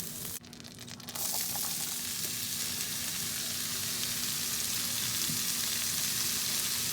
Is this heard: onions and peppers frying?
yes